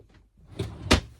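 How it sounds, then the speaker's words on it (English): A drawer is pushed shut close by in a room where sewing is under way, giving a soft sliding bump followed by a firmer closing thud, with no talk over it. "Just close that drawer"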